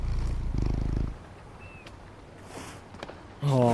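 A petted cat purrs in the video game Concrete Genie, a short low purr up front, then quiet with small rustles, and a voice briefly speaks near the end.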